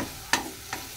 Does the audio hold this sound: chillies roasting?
yes